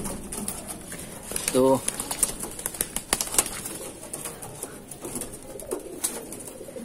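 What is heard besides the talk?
Doyash Jira Madrasi pigeons cooing and flapping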